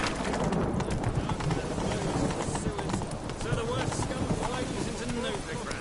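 Horse galloping in The Witcher III: a rapid, continuous drumming of hooves at steady pace, fairly loud and close, under a constant wash of ambient game noise.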